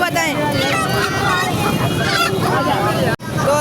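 Hens cluck and squawk up close amid a busy, noisy poultry market, with voices and general babble around them.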